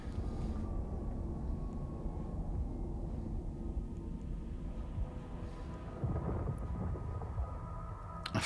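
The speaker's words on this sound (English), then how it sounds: "Afterburner activated." An afterburner engages on a Dominix ship in the space game EVE, giving a low, rumbling roar that carries on steadily and swells slightly near the end, with no talking.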